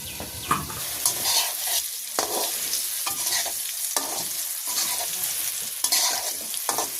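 Potatoes fry in a pan in a village kitchen, a steady close sizzle broken by scraping stir strokes at irregular intervals throughout.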